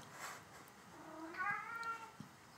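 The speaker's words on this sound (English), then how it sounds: "That's my cat talking to me about Microsoft Project there." A house cat gives a single faint, drawn-out meow in a quiet room, rising and then trailing off, with no one speaking.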